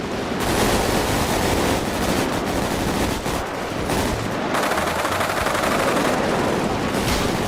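Rapid bursts of gunfire from a GTA V roleplay game, dense and loud, rattling almost without a break throughout.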